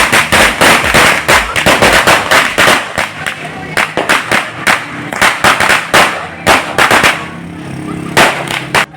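New Year firecrackers burst in rapid, irregular volleys of sharp cracks, loud and close, with festive voices and cheering mixed in between the blasts.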